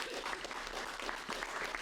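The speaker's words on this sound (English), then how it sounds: "can we clap it up for our panel, y'all?" Audience at a mental health panel for students clapping for the panelists, a brief steady patter of many hands under a low room hum.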